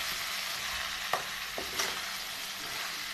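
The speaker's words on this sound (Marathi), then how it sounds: "आता मी आहे ना भेंडी टाकून घेते" Okra frying in a pan, a steady close sizzle with a few brief stirring scrapes and knocks over about three seconds.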